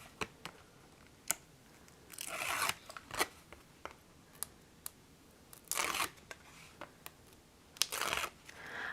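Scissors cutting paper at a craft table for card-making: a quiet, close series of crisp snips mixed with a few longer rustling cuts, with no talking.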